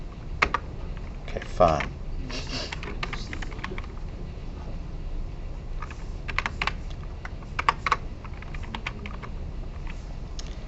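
Rapid typing on a computer keyboard during a recorded lecture, clusters of quick clicky keystrokes coming in bursts close to the microphone, with a brief spoken remark partway through.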